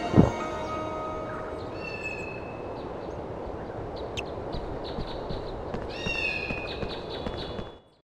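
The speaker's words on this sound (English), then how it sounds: "My kitten is still down there. Can you hear her?" A kitten's meows rise from the bottom of a well in the Harry Potter and the Sorcerer's Stone PlayStation game. Several faint, high cries come over steady ambient game noise, with the clearest cluster near the end.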